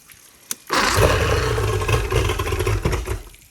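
A boat engine cranks and fires after a sharp click, roaring loudly and unevenly for a few seconds as it tries to catch, then drops off near the end.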